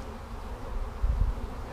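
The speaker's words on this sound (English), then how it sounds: "the bees in here are that bit older, and they're ready to come out" Bees buzz around a beehive frame in a steady, low, close drone that swells slightly toward the end, with no talking.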